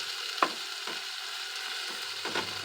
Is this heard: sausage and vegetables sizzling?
yes